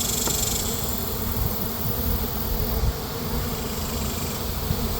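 Honeybees buzz steadily around neglected, falling-apart hive boxes on a remote property, a dense continuous drone close by with no talking.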